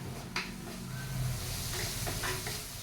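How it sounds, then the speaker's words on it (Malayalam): Onions sizzle and hiss steadily in a hot pan over high heat for a prawn roast, with occasional scrapes of stirring, close and continuous. "തീ കൂട്ടിയിട്ട് നല്ലപോലെ ഉള്ളി വഴറ്റിയെടുക്കാം"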